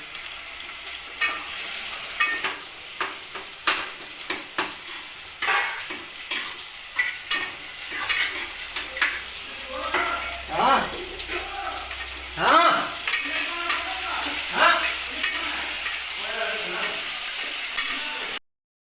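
Potato, onion and tomato curry frying and being stirred in a hotel kitchen pan, with repeated sharp scraping stirs and bursts of sizzling that grow denser and louder, close up and with no talking.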